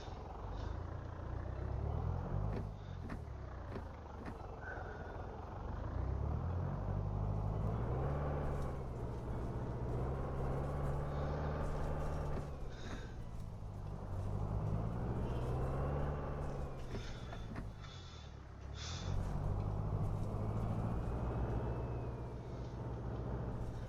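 Simulated ZAZ A10L50 city bus driving in OMSI 2 on the Chuhuiv map, its diesel engine rumbling steadily and rising and falling with gear changes, plus occasional clicks and hisses of air brakes.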